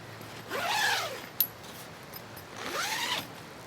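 Two long zipper pulls on a French F1 Commando military tent door, each a rising rasp lasting under a second, separated by a short pause and a small metallic click.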